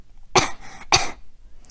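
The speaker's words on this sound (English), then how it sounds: "But at that moment, Shang coughed" Two short, dry coughs from a character in a read-aloud folk tale, spaced about half a second apart, close and moderately loud with quiet between them.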